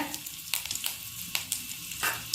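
Cumin and curry leaves crackle in hot oil as a tempering, a low sizzle broken by a few sharp spitting bursts at roughly half-second intervals.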